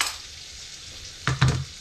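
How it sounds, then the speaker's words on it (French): Onions frying in a pan, a faint, even sizzle that is briefly broken by a couple of close stirring scrapes and knocks near the end, with no voices. "On met les oignons."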